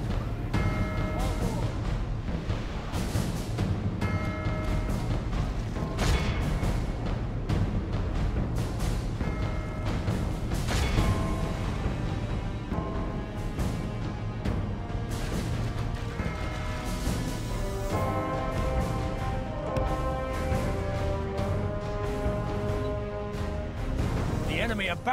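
Dense battle gunfire in Medieval 2: Total War, many shots and crashes piling up under game music and someone talking over it.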